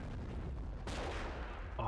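Gunfire and explosions rattle through a World War II battle around Carentan in Company of Heroes, with a sharp blast cutting in partway over continuous crackling combat noise. The whole burst is short and dense.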